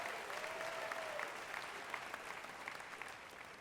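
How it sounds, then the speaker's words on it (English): Steady audience applause fills the hall at a Black Music Walk of Fame induction ceremony in Cincinnati, a dense even clapping that holds throughout at moderate loudness. "please give Commissioner Reese a round of applause for her vision"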